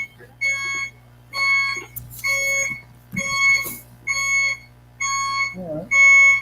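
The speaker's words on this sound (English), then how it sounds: "there's an alarm going" An electronic alarm sounds in repeated high pulsing beeps, about six bursts with short gaps, loud and steady, with faint voices underneath.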